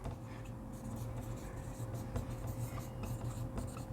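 Marker or chalk writing on a board during a biology lesson, soft continuous scratching and rubbing strokes heard close alongside a steady low hum.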